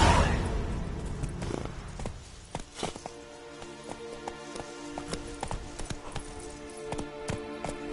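Horse hooves galloping in The Witcher 3 video game, a rapid steady clip-clop rhythm that starts after a brief whoosh and continues close and moderately loud to the end.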